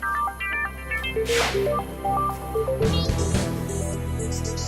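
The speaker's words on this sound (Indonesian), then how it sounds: "HP Siska bunyi mulu." A mobile phone rings with a melodic electronic tone, a bright sequence of stepped notes looping for several seconds, with a couple of short noisy bursts in between and no voices.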